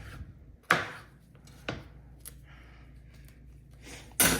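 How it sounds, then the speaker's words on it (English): A knife cuts a lemon in half on a kitchen board, giving three sharp, separate chopping knocks spread over a few seconds, with near silence between them. "I'm gonna take a lemon and just cut it in half here."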